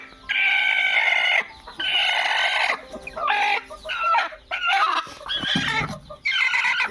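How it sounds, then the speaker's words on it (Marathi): A broody hen sitting on eggs in a village nest box clucks in long, close, fairly loud bursts with short pauses, a steady run of throaty calls with no talk over it. "बघा, ही आता कोंबडी बसलेली आहे"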